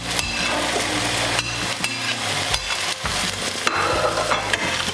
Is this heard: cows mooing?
no